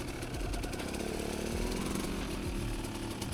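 A KTM 200EXC two-stroke dirt bike engine buzzes steadily up close at low revs during slow, tight circles in the bush, a continuous rasping drone with small throttle swells.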